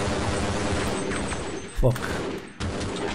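Automatic gunfire from the video game Half-Life: Blue Shift, a dense rattling burst of shots that runs on and breaks off, with one sharp louder bang near the end and a man swearing over it.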